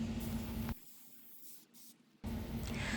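A can of Rust-Oleum navy blue spray paint hissing outdoors in a steady burst of about one and a half seconds, with quieter background before and after.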